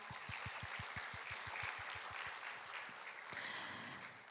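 Audience applause at a carbon-neutrality international conference opening ceremony, heard as a steady wash of clapping from a hall crowd, loud and continuous throughout, with a low rhythmic thumping beneath it.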